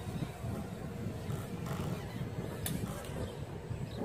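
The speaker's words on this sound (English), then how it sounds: "Very windy out here." Steady rushing wind buffeting the microphone outdoors during a quadcopter drone flight, a continuous low roar with no voices, fairly faint.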